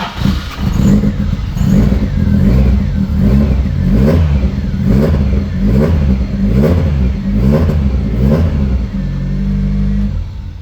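A Toyota Starlet KP60 with a 4AGE engine runs loud and close, its revs rising and falling in repeated blips of throttle, with no one talking.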